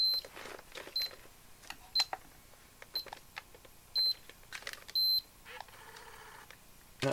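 A Sony FX630 8mm Handycam gives short, high electronic beeps at roughly one-second intervals, a few of them longer, over faint handling clicks and rustles.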